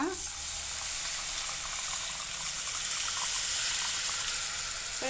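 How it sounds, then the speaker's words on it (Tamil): Water pours steadily into a pan of paneer gravy, with a continuous splashing, gushing sound, close and moderately loud throughout. "தேவையான அளவு தண்ணி நான் ஊற்றிக்கிறேன்."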